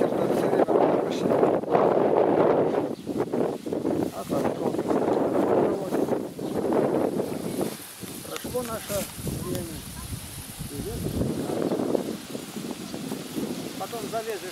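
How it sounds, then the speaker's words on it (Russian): Wind buffets the microphone in strong, steady gusts, roaring and rustling outdoors throughout. "А ветер тут все время почти."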